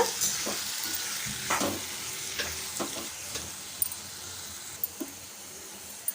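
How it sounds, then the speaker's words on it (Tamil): Chopped tomatoes are stirred into a sizzling tempering in a pan for a rice-based tiffin, with steady close frying hiss broken by scraping spoon strokes. "தக்காளி பழத்தை கட் பண்ணி வச்சுருக்கோம் உள்ளே சேர்த்துக்கலாம் சேர்த்துட்டு தாளித்ததோடு அப்படியே கலந்து விட்டுக்கோங்க"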